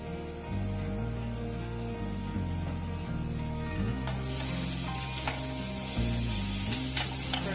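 Green chillies added to sautéed onions sizzle in a pan while cooking paneer bhurji, a steady close frying hiss with a few clinks of stirring, under continuous background music.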